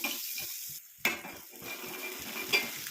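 A hair dye oil mixture sizzles and foams in a pan while a spoon stirs and knocks against the metal a few times, close up with no voices.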